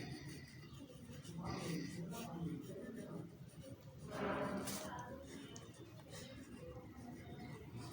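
A pen writes by hand on paper during a maths lesson, making faint, soft scratching strokes. A voice talks over much of the writing.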